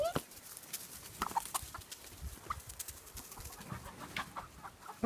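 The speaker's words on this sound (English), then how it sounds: "Mean chicken over here." Chickens clucking and scratching around on a museum outing, soft scattered clucks and rustles at a moderate distance, faint and irregular against quiet outdoor background.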